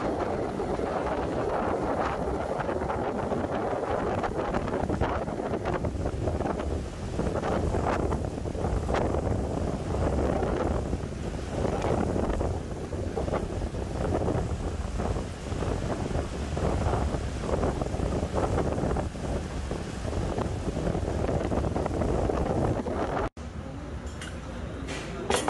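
Strong, steady wind at a beach resort buffets the microphone with a continuous low roar, loud and close throughout, briefly dipping near the end.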